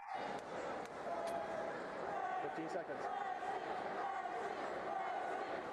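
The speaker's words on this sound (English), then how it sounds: "You can hear the Simon Kenton crowd yelling, Casey, Casey, Casey" A crowd yells and chants steadily at the Simon Kenton high school state wrestling championship match in 2016. The dense, continuous roar comes from the bleachers and runs the whole time beneath a voice talking over it.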